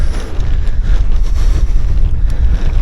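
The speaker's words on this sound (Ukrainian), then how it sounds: "сонечко світить і вітерець дує нам обличчя" A breeze rushes past while someone cycles outdoors on a spring path, giving a loud, constant low rumble of wind buffeting the microphone with no speech.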